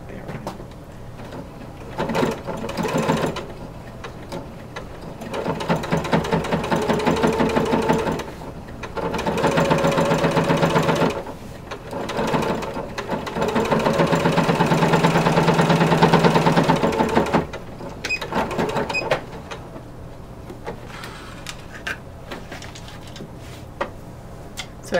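A sewing machine stitches corset bone casings in several loud, close bursts of steady mechanical whirring, each starting and stopping with short pauses in between.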